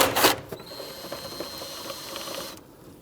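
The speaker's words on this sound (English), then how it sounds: "So we're going to undo this 10mm bolt right here." A ratchet undoing a 10mm bolt on a bracket during transmission mount work on a 2011-2015 Kia Sorento 2.4L, opening with a sharp metallic clack followed by a fast, close, steady clicking that stops just before the end.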